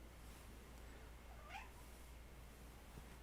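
A single faint cat meow, brief and distant, over a low steady background hum in a quiet room.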